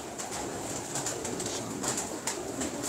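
A pigeon held in hand coos softly under a steady background hiss, with a few faint repeated calls spread across a few seconds.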